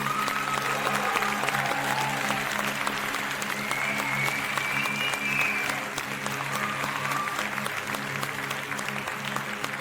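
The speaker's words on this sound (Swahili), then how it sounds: "Tunapiga makofi kwa ajili ya" A gathered audience at a celebration applauds steadily and continuously throughout, a dense wash of clapping with a faint crowd murmur and some low hum underneath, and no one speaks over it.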